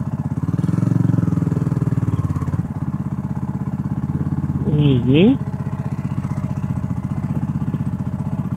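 Kawasaki Meguro S1 (W230) motorcycle engine idling with a steady, close throb throughout, a rider speaking briefly over it.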